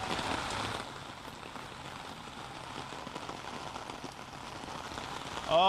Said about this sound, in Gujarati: મુસળાધાર વરસાદ કે જાણે સત્તાવાર ચોમાસું બેઠું હોય અને વરસાદ પડતો હોય